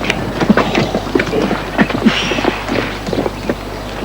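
A horse's hooves clip-clop in an uneven, clattering rhythm close by as it pulls a cart, with the sharp strikes standing out over a low steady background hum.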